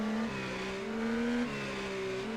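A race car in a video game at Sebring, F1 or IndyCar, holds a high, buzzing engine note that rises and dips as the throttle is worked on a corner exit, steady and prominent throughout.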